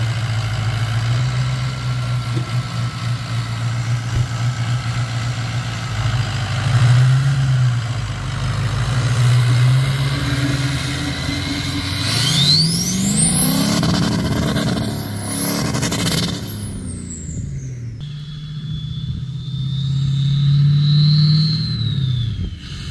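A diesel-swapped Mustang engine runs steadily with a low, throbbing idle and a leaking exhaust. Revs rise and fall partway through, and a high whine sweeps up and down over the engine. No one speaks.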